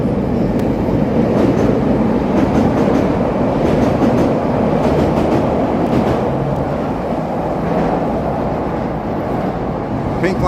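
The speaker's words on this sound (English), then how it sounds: "Here comes the train here." A Chicago Pink Line elevated train rumbles past on the city street near Lake Street, a loud, continuous roar with steady rail clatter that holds at close range throughout.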